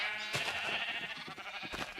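Sheep bleating in the Minecraft video game, a couple of loud, close bleats over a steady background tone, with no talking.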